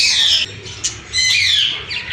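Bright, busy chirping from several birds at a small zoo in Baruipur, high-pitched calls overlapping in quick bursts with brief pauses between.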